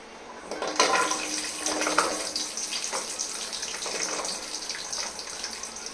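Chopped shallots, ginger and garlic tossed into hot oil, giving a steady broadband sizzle and crackle that swells when they land and keeps going evenly, close by and fairly loud, with no talking.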